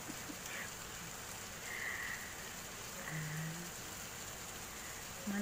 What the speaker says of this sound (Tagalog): Pero naririnig nyo ang patak. Malakas.